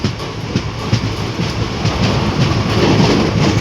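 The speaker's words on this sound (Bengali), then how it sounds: "কেচকি স্টেশনে ঢুকছে ট্রেন" A train rolls into Kechki station, near the confluence of the Koel and Auranga rivers, with steady rumbling and rhythmic clickety-clack of wheels over rail joints. The sound is loud and close, as if heard from on board.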